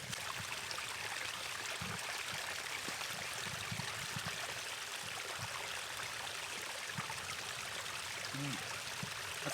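A mountain stream in the Cairngorms rushes steadily and close by, a loud, continuous broadband wash of flowing water with a few faint knocks while water is being collected.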